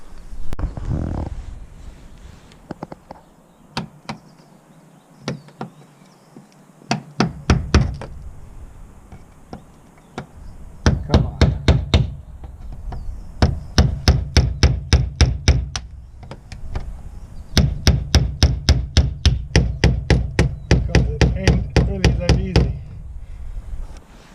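A hammer pounds a through-hull fitting inward on a Bianca 27 sailboat. Sharp, close metallic knocks come in fast rhythmic volleys separated by short pauses, growing denser toward the end.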